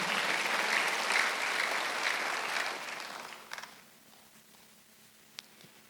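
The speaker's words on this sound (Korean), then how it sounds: "박수 하나 주세요." Applause from a church congregation during a Sunday worship service, steady for about three seconds and then fading out, leaving a few faint stray sounds in a quiet room.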